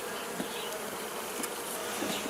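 Honeybees buzzing from an opened hive during a routine inspection, a dense continuous hum close by with individual bees passing near, no talk.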